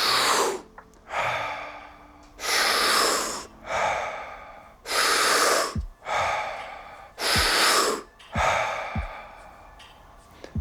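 Deep rolling Wim Hof breaths taken through the mouth, each a loud sustained rush of air roughly a second long, repeated in a steady cycle of about eight breaths up close with short pauses between them.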